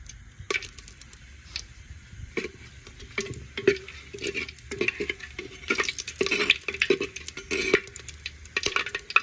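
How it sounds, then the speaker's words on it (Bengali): Whole spices—cloves, cinnamon and cardamom—frying in hot oil in a clay pot, with crackling bursts and intermittent stirring scrapes over a steady low sizzle, close and moderately loud. "তেলটা গরম হয়ে গেছে, লং, দারচিনি, এলাচটা দিয়ে দেবো।"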